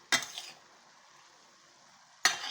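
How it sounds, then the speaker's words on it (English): Fried cabbage being stirred from the bottom of a pan: two brief scraping clatters at the start and end, with quiet sizzling in between. "You stir them from the bottom."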